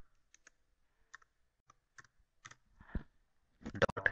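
Typing on a computer keyboard, a sparse run of light, close key clicks spaced out, then a quicker cluster of keystrokes near the end, quiet with no talking.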